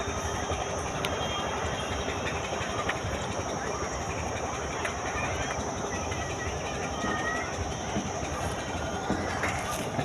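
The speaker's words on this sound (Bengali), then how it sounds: "এই ট্রেন যাচ্ছে দেখুন" A train rolls past near the Radha Kund temple area, a steady broadband rumble with faint clickety-clack of wheels filling the whole stretch; a voice may be present underneath.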